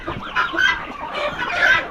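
Farm chickens feeding cluck close by in a continuous, busy chatter of short calls with no talking.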